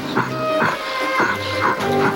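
Dogs bark and yip in a repeated rhythm, roughly four sharp calls spaced evenly over a steady, busy background, fairly close and loud.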